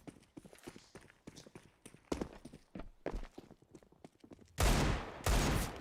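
Bursts of submachine gun fire from a Counter-Strike: Global Offensive match on the Inferno map: many quick, close shots in rapid clusters, ending in two loud, dense sprays of fire.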